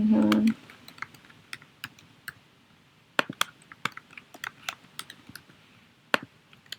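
Keys clicking on a computer keyboard as a username is typed into an account registration form, a sparse run of sharp taps and short bursts after a brief low hum at the start.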